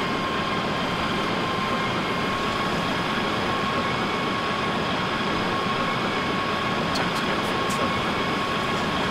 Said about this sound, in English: I can hear more helicopters.